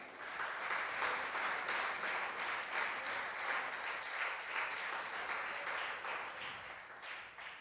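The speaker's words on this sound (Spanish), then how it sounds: "¿Cuánto le da un aplauso al Señor?" A church congregation claps together in sustained, steady applause during a Spanish-language worship service, dense and even throughout before easing slightly at the end.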